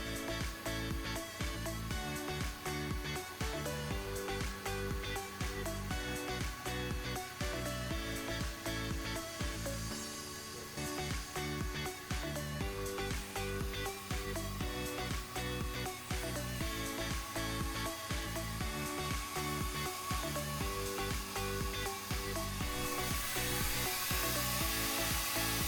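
A 15L coolant exchange machine runs continuously, filling a vehicle's hoses with coolant. A loud, steady mechanical whir and pump hum plays throughout, dips briefly, then resumes with a slightly brighter hiss near the end.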